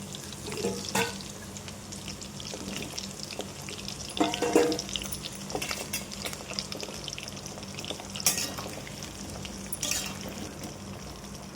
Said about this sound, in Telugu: ఇలా బోడ కాకరకాయలు లోపల మెత్తగా కావాలి, ప్లస్ ఉడకాలి, రంగు మారాలి. అప్పటిదాకా వేయించుకోవాలి.